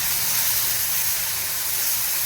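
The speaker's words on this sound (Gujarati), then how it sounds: "તમે જોવો છો એમ ગ્રેવી તળે છે." A tomato and onion paste fries in a pan with cumin and dried chili, giving a dense, even sizzling hiss that stays loud and close without a break and with no speech.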